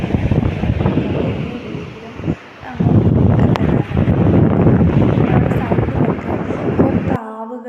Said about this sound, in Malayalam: ആ ഒരു കാറ്റും കടലിൻ്റെ ആ ഒരു സൗണ്ടും ഒക്കെ നല്ല രസമാണ്